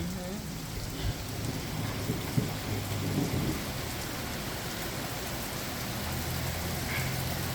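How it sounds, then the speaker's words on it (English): Heavy rain pours steadily during a major supercell thunderstorm in Richmond Heights, a dense continuous hiss with low thunder rumbling beneath it, heard from nearby with a floor flooding. "This storm is getting intense by the minute."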